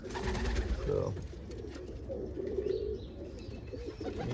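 Almond pigeons cooing in soft low repeated calls among other birds, with faint chirps and a brief word of speech over steady background noise.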